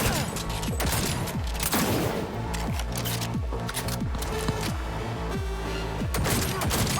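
Gunfire in Cyberpunk 2077: a sustained fusillade of close, loud shots with booming impacts over dense combat noise, without talk.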